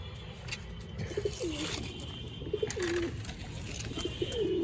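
Pigeons kept in a coop coo repeatedly, with several soft, rolling calls at a moderate distance over a low background hum.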